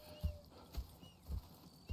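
Horses' hooves clop faintly on the ground in the video game Red Dead Redemption 2, four soft, evenly spaced steps heard alone and at a distance.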